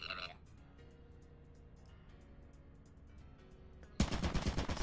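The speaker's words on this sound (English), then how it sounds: "Why is there a turret?" A turret in the video game Lethal Company opens fire in a sudden loud, dense burst of rapid shots after a stretch of quiet, low ambient hum.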